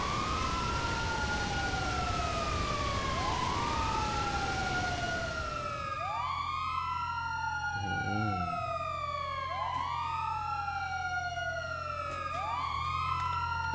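Police car siren in GTA V rises and falls in loud, repeating wails, later joined by a second siren cycling faster, all over a steady engine rumble.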